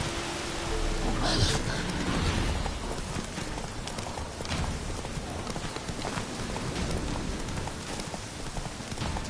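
Roach, Geralt's horse in The Witcher 3, runs with a steady clip-clop of hooves through rain and a dull outdoor wash, the hoofbeats close and continuous under the downpour.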